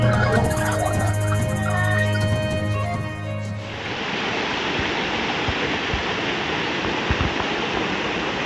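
River water flowing in a continuous broadband rush that begins after a stretch of music and then stays loud and steady, close by, with no one talking.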